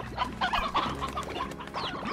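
A chicken in a farming video game clucks in quick, uneven bursts, close and clear, with short pauses between the calls.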